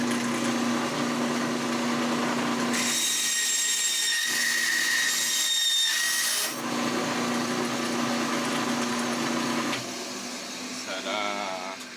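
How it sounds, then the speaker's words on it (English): A bandsaw slicing a small segment off a workpiece, a steady loud whirring drone with the pitch and load changing as the blade bites and finishes the cut, close up and continuous throughout. "And now we have to cut that little segment off. So we're using the bandsaw"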